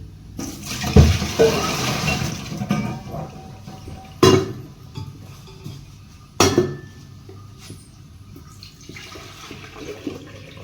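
Milk is poured from a pot into a jug in a home kitchen, a soft liquid pour with clinks and knocks of metal dishes, three sharp clanks standing out, close and without talk.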